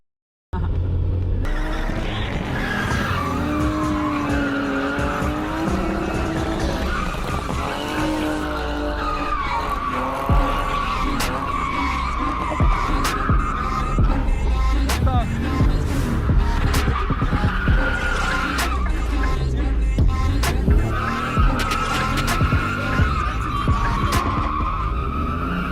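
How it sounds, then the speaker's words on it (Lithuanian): A car drifting with long squealing tire skids and a labouring, straining engine that revs and bogs, loud and close throughout, with repeated screeching slides and no talk. "Kažkaip labai sunkiai, ta mašina važiuoja, atrodo toks primiręs motoras"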